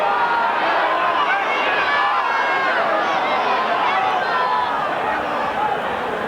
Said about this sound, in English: The crowd are shouting that he's got to go off the field